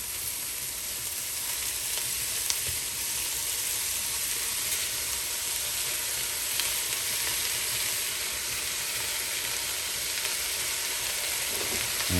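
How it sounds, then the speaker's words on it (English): Continuous crackling sizzle of ground meat browning in a hot pan, steady and close with occasional louder pops, no voices. "Oh, hear the sizzle, so that's a good sign."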